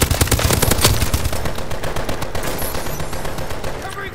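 Rapid automatic gunfire in a Call of Duty Advanced Warfare Hardpoint multiplayer match, loud dense bursts at the start that thin into sustained firing and game effects.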